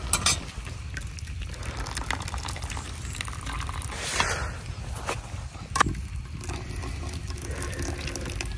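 Water drains off boiled cabbage in a village kitchen as a steady, rushing pour that runs for several seconds, close and moderately loud, with small clinks partway through.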